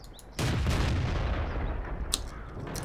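A tank cannon fires in the World of Tanks video game, one sudden loud boom followed by a long rumbling roll that lingers for a couple of seconds, with no voices.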